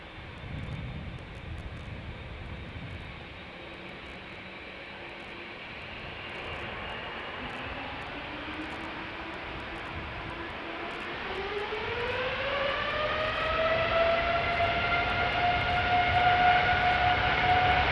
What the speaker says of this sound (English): that is KLM flight 603 going to LAX, 7879 Dreamliner, 8 years old